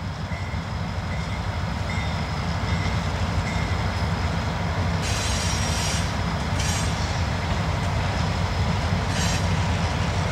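CSX freight train rolling past at Manchester Railroad Days, a loud continuous rumble of wheels and cars with metallic squeals and clatter rising midway, steady throughout with no voices.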